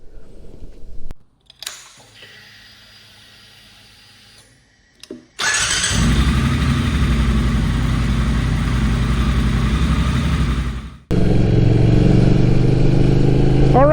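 A Ducati Supersport motorcycle is started after a few clicks and short stutters, then settles into a loud, steady engine drone close by, cuts off briefly and roars again.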